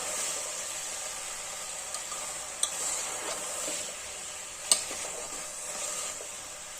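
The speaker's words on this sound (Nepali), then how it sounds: "फेरि चलाउनु पर्छ, मजाले फ्राई गर्नुपर्छ एकछिन" Melon rind vegetable curry sizzles steadily while frying in a pan, with a few sharp clinks of the spoon as it is stirred; a close, continuous hiss with no talking.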